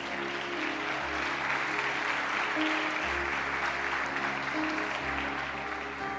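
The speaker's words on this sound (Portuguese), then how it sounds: "Pode aplaudir o Senhor" A church congregation gives a continuous round of applause, a dense, even wash of clapping at moderate distance over a low electrical hum.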